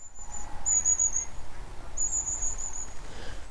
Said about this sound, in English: Apart from a few birds just twittering away, it is almost completely silent here.